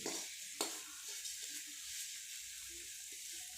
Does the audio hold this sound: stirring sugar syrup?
yes